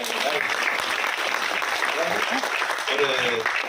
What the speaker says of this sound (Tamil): பலத்த கரகோஷம்